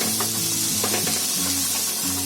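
Mixed vegetables frying in a pan for masala pasta give off a continuous hissing sizzle at moderate level, with a faint tonal hum running underneath and no speech.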